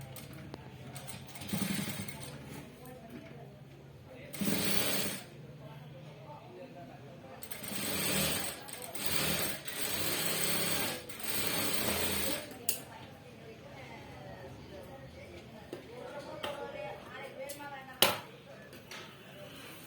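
A sewing machine runs in short bursts while stitching a blouse at a tailoring table, with loud clattering runs between pauses and someone talking throughout.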